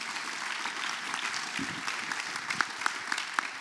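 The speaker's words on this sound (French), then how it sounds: "Vous pouvez l'applaudir, bien entendu." Steady audience applause fills a hall at a forum on the Canal de Provence, a dense even patter of many hands with a few sharper claps standing out near the end.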